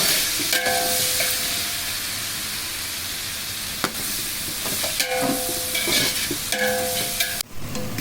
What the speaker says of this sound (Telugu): ఉల్లిపాయలు కూడా వేసుకుంటే బాగా అన్నీ వేగబోతాం ఇందులోనే కరివేపాకు